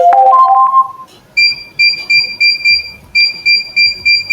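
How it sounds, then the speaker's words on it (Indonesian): A PLC-controlled Mitsubishi FZ20 conveyor trainer sets off a simulated fault alarm: a short rising electronic tone, then a steady string of loud, evenly spaced two-tone beeps repeating about twice a second. "Alarm simulasi kerusakan telah menyala"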